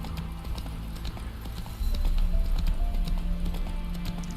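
Hooves of the horse Roach in The Witcher 3 clip-clopping in a quick, steady galloping rhythm, close and clear, growing a bit louder partway through, with no talk.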